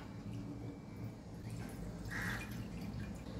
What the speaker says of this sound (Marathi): पॅनमध्ये दूध टाकूया।